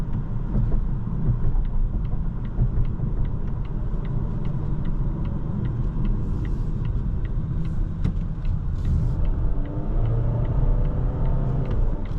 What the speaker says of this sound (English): Yeah, very smooth ride in this car.